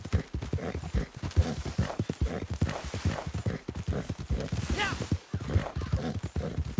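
Horse hooves clip-clop at a steady trot in the Red Dead Online video game, a busy rhythmic patter of hoofbeats running throughout with continuous voices and game sound layered over it.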